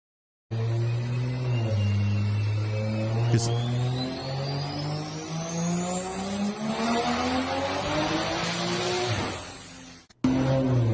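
A tuned Toyota Supra on a dyno, its engine revving in one long sustained pull with rising pitch to a high peak, loud and close, then cutting off abruptly.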